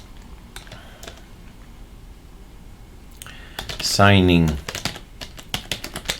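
Rapid keystrokes on a computer keyboard while working in a terminal on an ArcoLinux system, with someone talking over the clicks.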